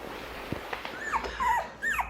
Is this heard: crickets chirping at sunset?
no